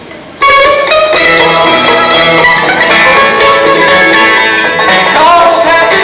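A banjo band plays the Car Talk theme tune, with bright, busy picked banjo lines over a full, loud ensemble that plays continuously and without any talking.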